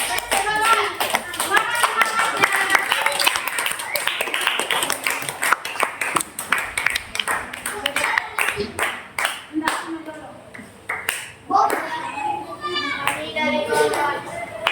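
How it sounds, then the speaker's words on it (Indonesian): Many hands clap rapidly and unevenly nearby in a classroom, mixed with children's voices and chatter, tapering off toward the end. "Tepuk tangan untuk kelompok 4 dulu."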